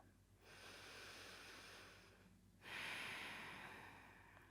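Deep breaths taken during a yoga hip stretch, close and soft: one long inhale, a brief pause, then a stronger airy exhale.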